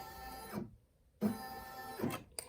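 Embroidery machine tacking down backing fabric in a hoop, close mechanical stitching bursts separated by a short pause, with no talk.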